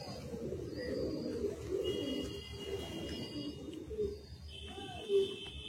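A Kalsira Madrasi high-flying pigeon from Andhra coos softly and repeatedly, with low, rounded calls close by over a quiet room background and a slightly louder coo near the end.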